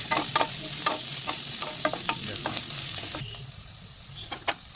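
Onion and green chillies fry in hot oil with a steady, bright sizzle, broken by repeated scraping clicks as a spatula stirs them in the pan. The hiss drops noticeably quieter near the end.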